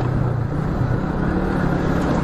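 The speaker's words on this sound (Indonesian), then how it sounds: "banyak truk gak kuat tanjakan." Heavy trucks grind up a steep uphill road through the Saradan forest near Madiun, a loud, continuous low engine drone filling the whole stretch with no talking.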